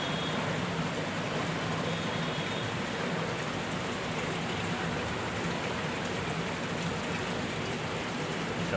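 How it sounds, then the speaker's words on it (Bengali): Heavy morning rain falls over Dhaka, a continuous, fairly soft wash of drops on surfaces that holds an even level throughout, with no one speaking. "কত বৃষ্টি হইতেছে,"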